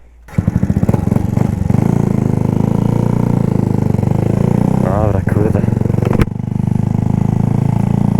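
A loud motorcycle exhaust roars steadily up close, with a rough, throbbing idle and brief revs throughout.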